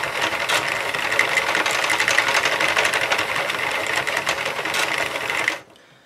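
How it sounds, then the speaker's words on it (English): A Sentro plastic circular knitting machine cranked around continuously as it knits rows, giving a busy steady clatter of fast ticking needles that stops abruptly near the end. "you can hear that click, and that's what I use to count, because that's where it should be activating the row counter"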